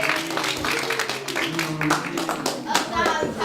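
Audience clapping for the sheriff at a Robin Hood event, brisk scattered handclaps close by, mixed with voices talking over them.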